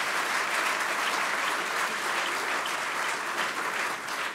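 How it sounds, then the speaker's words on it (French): An audience at a keynote talk applauds to welcome Jacques Attali, sustained full-room clapping that holds steady and dips slightly at the end. "conserver vos applaudissements pour accueillir Jacques Attali"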